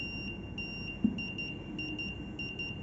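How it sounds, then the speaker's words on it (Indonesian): Buzzer on an ESP8266 parking sensor sounding a rapid series of short, evenly spaced electronic beeps, quicker than before, faint against a low steady background hum. "buzzer akan menyala dengan lebih cepat dari sebelumnya"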